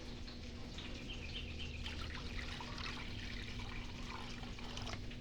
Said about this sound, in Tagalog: Tapos lagyan natin ng tubig ito.